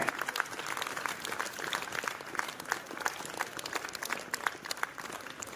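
Audience at a New Year student event claps in a steady, dense wash of applause that holds at an even level throughout, with faint voices mixed in.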